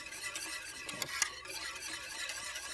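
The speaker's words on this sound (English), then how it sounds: "So you continue to stir." A utensil stirs a sugared egg mixture in a pot on the stove, giving a soft continuous scraping swish with a couple of sharper clinks against the pot near the middle.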